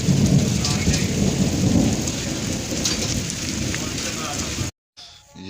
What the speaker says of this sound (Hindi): ये देखें आवाज़ें, शदीद तूफ़ानी बारिश हो रही है